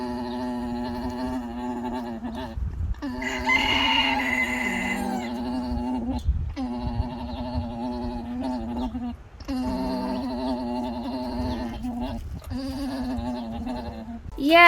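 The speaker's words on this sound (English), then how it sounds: "The male will sing to the female to get her hormones in the mood" Male alpaca's mating song to a female: a continuous droning, bleat-like orgling with steady harmonic pitch, loud and close, repeating in long phrases with short breaths between, no speech.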